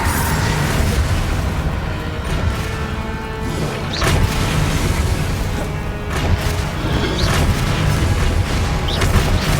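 In a Harry Potter video game, a Confringo spell sets off loud, continuous explosive booms and rumbling crashes, with dense layered blasts throughout and no speech.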